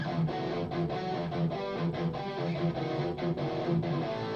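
Distorted rhythm electric guitar recorded through a Line 6 HX Stomp, a dense driving chord part played steadily and up close with no talking.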